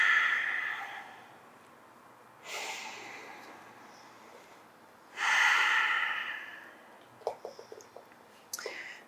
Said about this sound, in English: And breathing here.